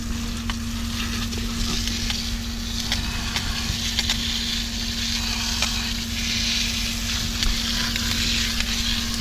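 A water spray rinses grease off a pickup truck bed, a continuous close hissing wash with a steady low hum underneath and no pauses.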